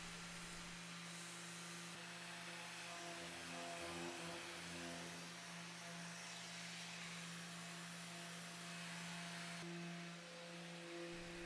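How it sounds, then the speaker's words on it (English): Mirka orbital sander with a 320 pad smoothing a particle board dresser, a steady faint hissing drone with a constant low motor hum running throughout. "I went over everything with a 320 pad on my Mirko orbital sander"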